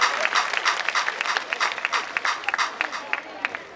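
An audience at an evening patriotic anniversary program applauds, a dense crowd of claps with sharper individual hand strikes standing out, steady for several seconds at moderate distance.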